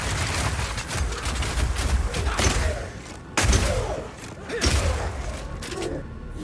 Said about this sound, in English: If you draw monsters back over these crystals, they explode, chilling the monsters